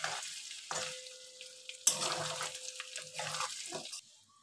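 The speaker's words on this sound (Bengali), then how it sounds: "দিয়ে এটাকে আরেকটু ভেজে নেব, আরেকটু লাল লাল করে ভেজে নেব" Chicken sizzles as it fries in a pan, with bursts of hissing and stirring scrapes that come and go before fading to quiet.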